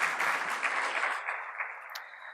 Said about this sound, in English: Big round of applause to all of them, please.